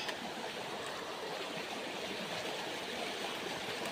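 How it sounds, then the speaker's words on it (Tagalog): A stream runs along a steep shortcut path, a steady rushing wash of water holding even and close throughout with no voices. "Yan ang sapa oh."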